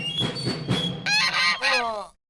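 Geese honk loudly and close by, several harsh calls in quick succession, then silence.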